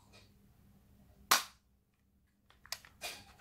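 A single sharp snap from a P85 MK11 manual jelly-ball toy pistol firing one shot, loud and close, followed by a few smaller clicks and rattles from handling the pistol.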